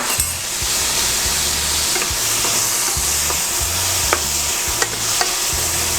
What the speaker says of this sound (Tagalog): And lalagay ko na po ang ating hipon.